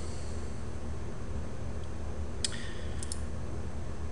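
Computer mouse clicking on a booking page, a few faint short clicks over a steady background hiss.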